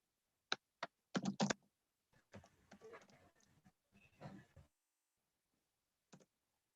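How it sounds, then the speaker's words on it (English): Typing on a computer keyboard: a few sharp clicks, then a quicker, softer patter of keystrokes, and a lone final click after a short pause, all close-up. "Let me just type it to everyone."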